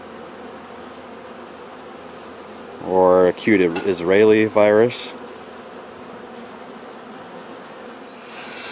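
A steady hive buzz of honeybees runs throughout at moderate level while someone talks over it for a couple of seconds in the middle.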